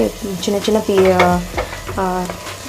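Minced meat keema frying in a pan for keema biryani, stirred with a utensil: close sizzling and scraping strokes, fairly loud, with a brief voice.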